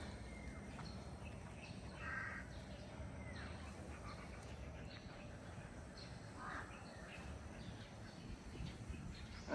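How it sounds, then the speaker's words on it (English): A couple of jungle crows caw faintly in the distance over a steady outdoor background hum, in a housing estate in Subic Bay, Philippines. "A few jungle crows around."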